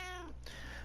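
A cat gives a single short meow, fairly close and clear, over a low steady background hum from a room with a television.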